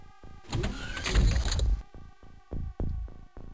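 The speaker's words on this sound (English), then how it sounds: "More UFO sounds." Alien UFO sounds from the game X-COM UFO Defense: a loud swelling mechanical whoosh rises and fades, then a steady pulsing electronic rhythm with repeated throbbing hits continues, no talking.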